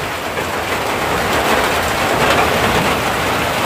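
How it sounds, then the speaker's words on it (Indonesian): Heavy rain pouring outdoors during a fishing trip, a loud, steady, dense hiss of drops hitting surfaces that continues unbroken throughout, with no speech. "cuacanya lagi hujan pemirsa"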